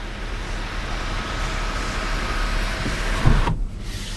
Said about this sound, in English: you also have an automatic one-touch power tilting and sliding sunroof